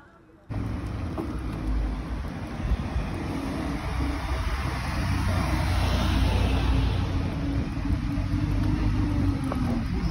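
A police operational vehicle driving, a steady loud engine and road rumble that starts abruptly and holds throughout, with a faint higher hiss above it.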